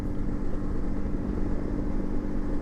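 A SYM NHT 200 motorcycle engine drones steadily while being ridden solo, a continuous loud hum with a constant low rumble and no pauses.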